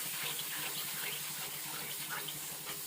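A steady stream of water pours and splashes continuously into a pan for making jaggery coconut laddu, close by, with no voices.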